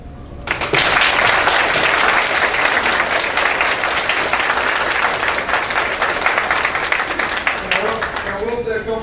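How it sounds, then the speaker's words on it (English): Big round of applause at a student awards ceremony, starting abruptly after a brief voice and holding as dense, loud clapping from a large audience for several seconds, tapering slightly with some voices near the end. "if we can give a big applause to all these wonderful students that are receiving awards today"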